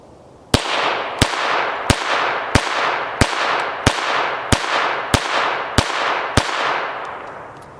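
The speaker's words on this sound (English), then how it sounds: "we're going to bring out just that Fiocchi standard, and I'm going to shoot it" An FN 502 .22 LR pistol firing Fiocchi standard ammunition: ten sharp, loud shots in an even, steady rhythm, each with a short ringing decay, and no talking.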